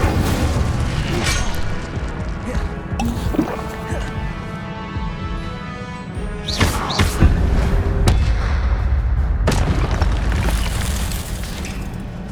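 A fire spell cast in the Hogwarts Legacy video game, heard as loud booming bursts of flame amid continuous game effects and music, with sharp flares repeating partway through.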